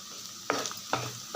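Snake gourd stir-fry with grated coconut stirred in a pan: three sharp spatula scrapes at intervals over a soft, continuous sizzle.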